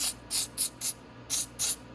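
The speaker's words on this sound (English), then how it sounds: "quick spray of carb clean" Carb cleaner sprayed onto an oil filter from a 250cc Venom x22R, six sharp hissing bursts in a quick, uneven rhythm, close and fairly quiet, with no talking.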